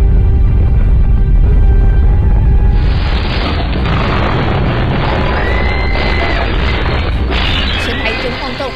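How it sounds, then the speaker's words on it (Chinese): Deep, roaring rumble of a violent earthquake, the Meishan quake striking Chiayi, Taiwan, at dawn. It sounds loud and continuous for about nine seconds, with a heavier crashing, grinding texture building from the third second onward. "一场凶猛的强震伴随着轰然鸣响"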